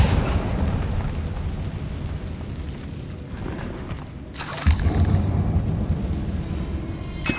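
A Confringo fire-blast spell bursts in Hogwarts Legacy inside a catacomb, a heavy booming eruption that swells with a sharp onset midway through a dense, rumbling battle din.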